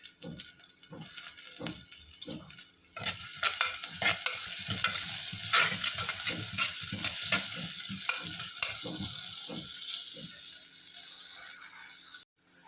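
Onions frying in coconut oil for a Mangalorean prawn and potato curry, a steady close sizzle punctuated by repeated spatula stirring strokes, with no talking.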